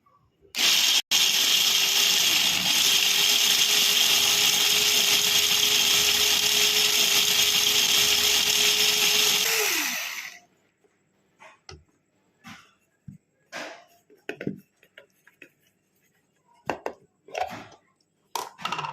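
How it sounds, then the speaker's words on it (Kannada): A mixer grinder grinds peanuts into powder with a loud, high, continuous whir for about ten seconds, then cuts off and winds down, leaving scattered clicks and handling knocks. "ಕಡಲೆ ಬೀಜ ಇದ್ರೊಳಗಡೆ ಹಾಕಿದ್ದೀನಿ ಇವಾಗ ಪೌಡ್ರ್ ಮಾಡ್ಕೊಳ್ತೀನಿ"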